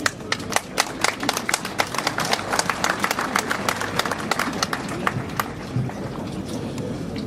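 An audience at a union meeting in Nantes claps, with sharp, dense, uneven claps that fill the whole stretch and fade slightly toward the end.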